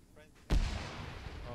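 In a military video game, a single loud, close blast of gunfire or artillery erupts after a brief quiet stretch, then rumbles and decays, with faint radio-style voices in the background.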